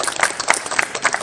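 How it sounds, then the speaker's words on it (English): Audience applause at a fantasy art convention panel, a dense burst of close clapping from a crowd, steady and loud throughout with no pauses. "I'd like everybody to give her an applause"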